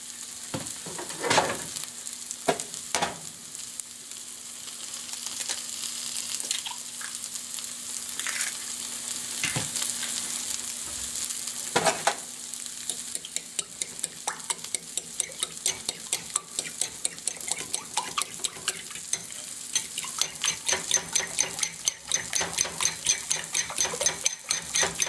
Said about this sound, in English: I'm going to break and scramble these two eggs and a little milk here.